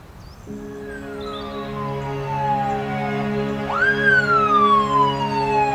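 An ambulance siren wails loudly and steadily close by, its tone sweeping down and then rising again as it approaches, with a low engine hum underneath.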